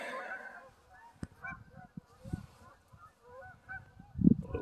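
Geese or ducks at a Ducks Unlimited pond give a few scattered honks and quacks at moderate distance, with a louder burst near the end over quiet outdoor ambience.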